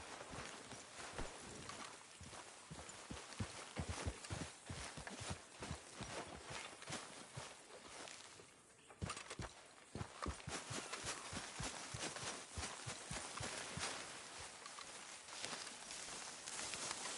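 Steady clip-clop of horse hooves on the ground in Red Dead Redemption 2, faint and continuous with a brief lull midway, the rhythmic hoofbeats carrying on alone throughout.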